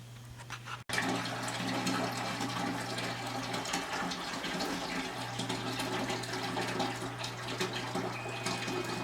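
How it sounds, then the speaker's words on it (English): Water rushes and gurgles steadily out of a steam boiler system as it drains, a continuous close splashing flow with a low hum underneath, starting after a brief click. "Let's drain the water out and see what happens."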